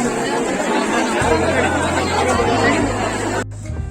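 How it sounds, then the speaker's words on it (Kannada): Busy crowd chatter inside an old sari shop before a festival, many overlapping voices in a dense hubbub with a closer voice in the mix. "ಸಿಕ್ಕಾಪಟ್ಟೆ ಕ್ರೌಡ್ ಇದೆ"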